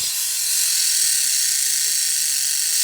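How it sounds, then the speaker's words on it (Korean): A carbon mountain bike wheel hub freewheeling, its ratchet making a dense, fine, continuous buzzing that holds steady and close for about three seconds with no talk. "많은 MTB 라이더들이 좋아하는 이 라쳇 사운드"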